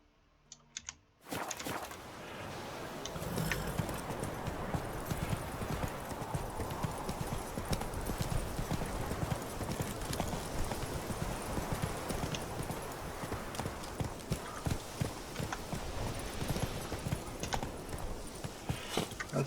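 Geralt's horse in The Witcher 3 starts up after a short quiet start, then its hooves beat a steady, fast galloping rhythm. The hoofbeats run close and continuous for about eighteen seconds and no one speaks.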